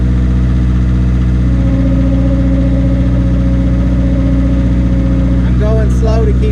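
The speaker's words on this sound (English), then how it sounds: "Let me get the GoPro attached, and we'll get some videos of it in action." Small JCB 208s skid steer diesel engine running steadily while the machine drives slowly over bumpy ground, a loud continuous low drone throughout with a brief higher whine near the end.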